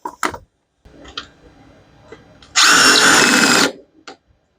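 A hammer drill bores a hole into concrete to fix timber with roof screws, one loud, harsh burst of about a second after a few faint knocks and handling sounds, with no talk.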